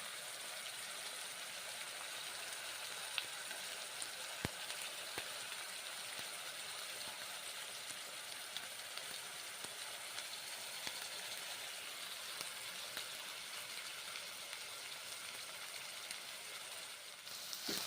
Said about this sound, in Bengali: তারপর ভেজে নিচ্ছি।